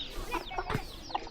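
Free-range native village hens in a rural hillside Bengali village near Ghatshila cluck in short, scattered calls at moderate distance, with no voices present.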